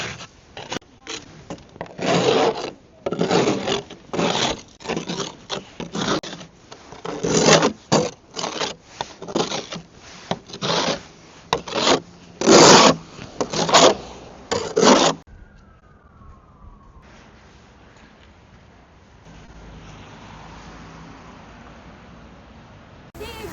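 Rapid, rhythmic scraping strokes from an ice scraper clear snow and ice off a car during a Canadian winter. The close, repeated rasps continue for about fifteen seconds, then stop, leaving a quiet outdoor background.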